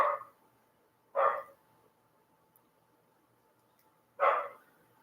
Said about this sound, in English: Now they're going to bark.